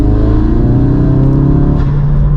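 A Ford Focus RS MK3 accelerating hard in third gear, its engine note loud, close and steadily rising in a smooth continuous drone.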